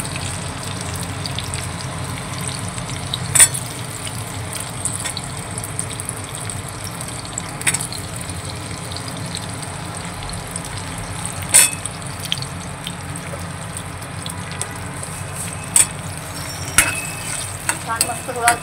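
Potato pieces frying in a pan for sabudana khichdi, a low steady sizzle with occasional sharp clinks and scrapes of a spoon stirring against the pan, close and moderately loud.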